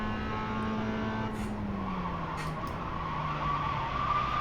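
Race car in the iRacing sim, engine droning steadily with a falling pitch as it downshifts, joined by a sustained tire skid and squeal toward the end, with no talk.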